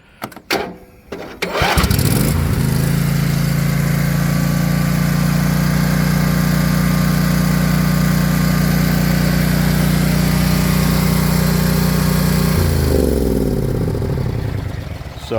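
A 1999 Craftsman lawn tractor, model 912-272040 fitted with a snowblower attachment, sputters to life and then runs at a steady, loud idle with a strong low hum for most of the stretch before easing down near the end.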